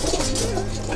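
A soft, low coo from a golden pigeon murmurs close by on a high-flyer pigeon farm, amid a dense, noisy background of other birds.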